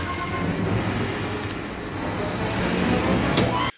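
A runaway train in an animated Batman episode, a loud continuous rumble of wheels on rails with high metallic squeals and screeches, cutting off abruptly at the end, no voices.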